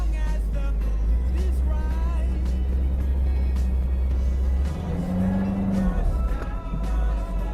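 Car driving through a heavy 2018 snowstorm with no traction: a steady low engine drone up close, rising briefly as it revs, with muffled thumps and rattles over the rumble.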